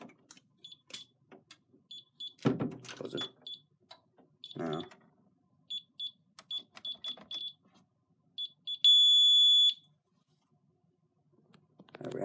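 An alarm system keypad gives short repeated entry-delay warning beeps as a door opens, with clicks and door handling noises in between, then a longer steady tone before the beeping stops.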